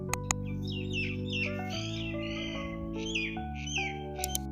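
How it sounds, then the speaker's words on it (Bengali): Birds chirp and squawk in repeated short bursts near the Firoz Minar, a historic victory minaret in Bengal. The calls are moderately loud over a steady low droning hum. "তোমাদের একটু পাখির ডাকটি আমি শুনিয়ে দেওয়ার চেষ্টা করব তোমরা শোনো কত সুন্দর"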